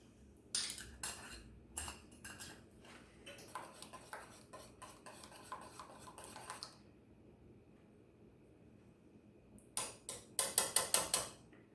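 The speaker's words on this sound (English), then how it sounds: "And then I'm going to mix my flour real quick." Dry flour being whisked together with turmeric and seasonings in a bowl for Texas chicken-fried steak, a run of quick clinking, scraping utensil strokes against the bowl, a pause, then a final burst of brisk tapping.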